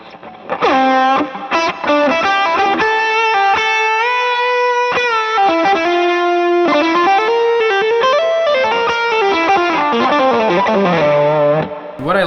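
Distorted electric guitar solo played through a J Rockett Touch overdrive pedal stacked with another drive, with sustained bending lead notes and fast runs, loud and close with no talking.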